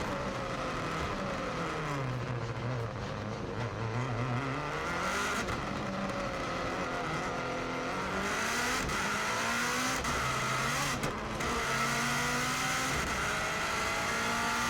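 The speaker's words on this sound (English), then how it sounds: "we're now accelerating for the flying start, and we're just about to go across the start line now" A Subaru WRX STI rally car onboard at the Isle of Man TT, its engine loud and close as it accelerates hard, rising through the revs with repeated gear changes and no pause in the sound.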